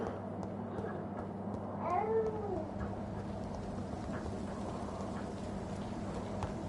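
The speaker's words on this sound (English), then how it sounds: "Why is it always raining in this game" Steady rain falling in the video game Vampyr, a constant soft hiss with faint patter and a brief meow-like cry partway through, no speech.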